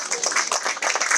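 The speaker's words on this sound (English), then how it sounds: "You can clap." Short burst of clapping from an audience at a groundbreaking event, quick uneven hand claps close by that stay fairly loud throughout the moment.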